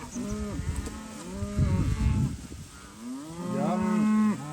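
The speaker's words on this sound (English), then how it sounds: "She's a real pretty cow." A South Poll cow lows loudly and close by, several drawn-out moos rising and falling in pitch, one after another with short gaps, alone without talk.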